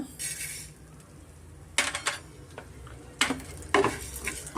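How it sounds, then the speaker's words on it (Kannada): Cumin, coriander and fenugreek fried in oil in a pan for an instant rasam premix, with a spoon scraping and clinking against the pan over a soft sizzle. "ಜೀರಿಗೆ ಧನಿಯಾ ಮೆಂತ್ಯೆ ಎಲ್ಲ ಸ್ವಲ್ಪ ನಾವು ಎಣ್ಣೆಯಲ್ಲಿ ನಾವು ಫ್ರೈ ಮಾಡ್ಕೊಬೇಕಾಗುತ್ತೆ"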